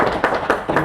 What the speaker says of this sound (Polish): Brawa są może nie słabe, ale są średnie